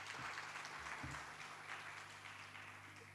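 Audience applause closes an academic lecture at a university research and innovation week, a steady, soft wash of many hands clapping that fades slightly over about three seconds, with a low hum underneath.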